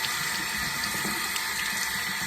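Water runs steadily from a bathroom tap into a sink while face wash is rinsed off, a continuous close hiss and splash with no voices over it.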